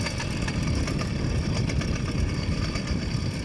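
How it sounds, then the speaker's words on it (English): A motorized bicycle engine idles steadily through a winter cross-country ride, a continuous close rumble with a buzzy, putting texture and no talk. "I'll just keep it idling and do a little cool lap for a couple of seconds here."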